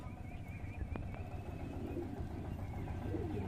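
Pigeons in a home loft, some sitting on eggs, coo softly and repeatedly against a low background hum, with a couple of brief sharper taps partway through.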